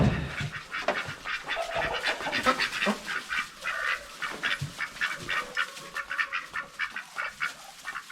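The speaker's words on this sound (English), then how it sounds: "Found Muscovies." Muscovy ducks at a backyard pen, giving a steady run of soft, raspy calls and hisses close to the microphone, with birds calling over one another throughout.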